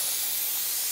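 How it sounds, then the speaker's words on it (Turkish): Steam hisses steadily from the release valve of a pressure cooker, a continuous bright, airy rush that stays constant and fairly loud throughout, with no voices. "Kenarda durarak buharını şu şekilde tahliye edebilirsiniz."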